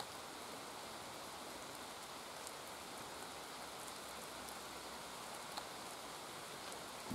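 Steady rain falls in the woods, a constant even hiss of drops on leaves and ground with faint scattered patters, heard alone.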